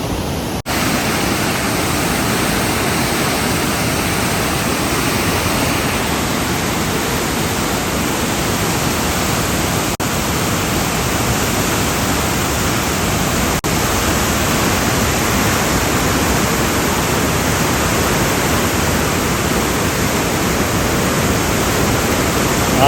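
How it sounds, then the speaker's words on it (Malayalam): Loud, steady roar of the Chaliyar River in strong flow, a dense continuous wash of noise filling the whole clip without pause. "അത്രയ്ക്ക് ശക്തമായിട്ടാണ് വെള്ളം വരുന്നത്"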